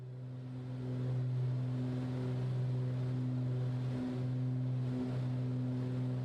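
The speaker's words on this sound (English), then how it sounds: "The sound of them engines is just incredible." Twin piston engines of a Beechcraft BE58 Baron on a Patagonia flight drone as a loud, steady low hum that holds evenly throughout with no talking.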